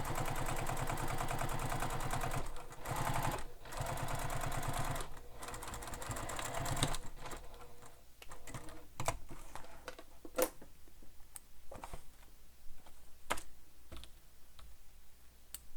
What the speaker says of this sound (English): And then I'm going to top stitch this, and that'll hold that seam down.